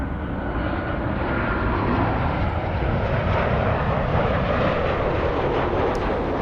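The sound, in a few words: airliner flying over on approach to LAX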